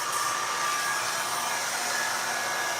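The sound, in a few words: blow dryer drying hair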